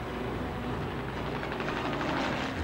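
A Brewster Buffalo fighter plane of the wartime RAF drones steadily overhead, a dense, loud, continuous engine roar with a slight pulsing flutter and no gaps.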